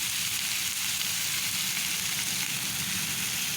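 Ground spices — Kashmiri chili powder, turmeric, cumin — sizzling steadily in hot oil for a light potato and pointed gourd curry, a continuous close hiss with no voices.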